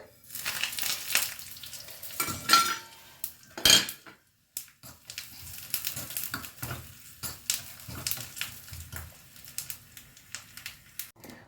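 Curry leaves and spices are tempered in a pan for one-pot radish sambar, with clinking utensils, stirring and faint sizzling in irregular bursts, close and moderately quiet, a short silence near the middle.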